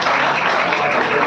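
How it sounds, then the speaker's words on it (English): A big round of applause for the participants at an MIT Moradabad event, steady and dense from start to end with no pauses. "Please welcome each and every participant by encouraging, by giving a big round of applause"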